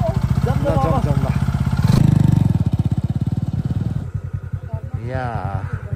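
A scooter engine runs on a village road, its buzzing drone steady and close, rising briefly louder midway, while people talk over it throughout.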